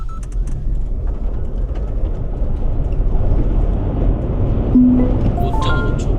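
A Mercedes G580 EQ electric SUV in sport mode with everything switched off accelerates hard toward 100 km/h, giving a steady low road and motor roar from inside the cabin that holds loud throughout, with faint stray sounds near the end.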